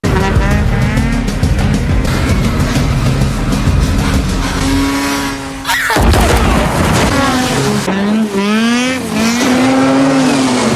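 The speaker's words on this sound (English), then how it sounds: "At the same time, Zoe's car was seen skidding" A car skids with tires squealing in an action movie about a cartel kidnapping, loud and close, over dramatic music and booming hits.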